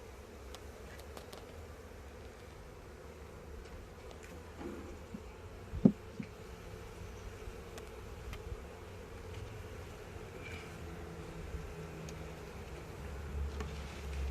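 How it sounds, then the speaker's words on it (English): Honeybees buzz in an opened hive, a steady, soft, close swarm drone with a single sharp knock partway through and no talk. "This is a good looking hive here."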